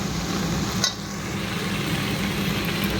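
Spiced water poured into a pan of sizzling cauliflower and potato curry, giving a steady broadband frying hiss with a brief bright splash near the start, no talk.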